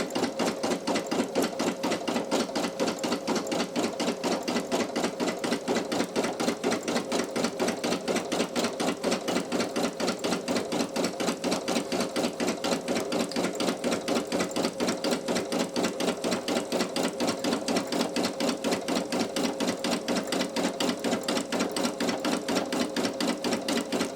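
A Brother PE800 embroidery machine stitches underlay on a towel, a loud, fast and perfectly even mechanical chatter running steadily without pause.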